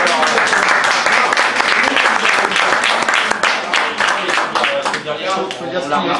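A crowd at a Gilets Jaunes meeting in Segonzac, Charente applauds loudly, the dense clapping tapering off toward the end while voices start talking over it.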